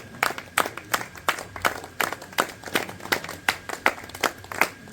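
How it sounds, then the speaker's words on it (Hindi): Scattered, fairly sparse clapping from an audience welcoming a speaker onto the stage at an Independence Day program, with uneven individual claps rather than a dense roar. "जोरदार तालियों से स्वागत कीजिए।"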